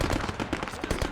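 Gunfire in the video game Arma 3 crackles in a dense, rapid burst of overlapping shots, loud and continuous for about a second.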